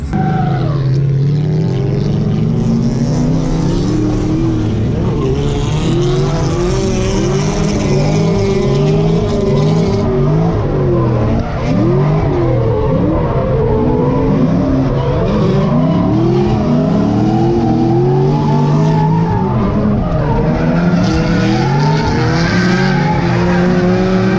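A drift car at Circuit of the Americas during a drifting demo for Super Lap Battle, with engine revving and long continuous tire squeals and skids, loud and sustained throughout.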